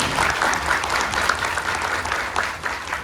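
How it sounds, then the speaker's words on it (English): A room full of people applauding, with steady clapping throughout at a moderate, even level. "Let's have a big round of applause"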